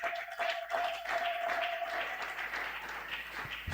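A church congregation at a Sunday praise and thanksgiving service applauds in a sustained, fairly even wash of clapping, with a faint tone and some voices mixed in.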